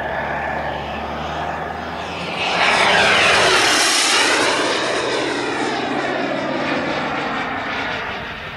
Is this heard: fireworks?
no